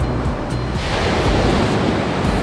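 Ocean surf rolls onto the beach in a steady, loud wash of breaking waves, mixed with wind buffeting the microphone and no voices.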